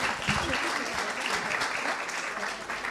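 An audience at a school oratory contest claps steadily for the debaters, a dense, even wash of applause lasting the whole moment with faint voices mixed in.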